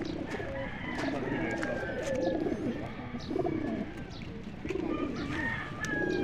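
Pigeons coo repeatedly at close range in Cabadbaran City, their low rolling calls rising and falling in waves, with occasional chirps and faint background voices.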